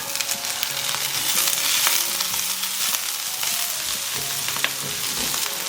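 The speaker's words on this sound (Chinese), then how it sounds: "把芹菜放进来翻炒" Celery tossed in hot oil in a wok after scrambled eggs, sizzling loudly and steadily with repeated metal spatula scrapes and clinks.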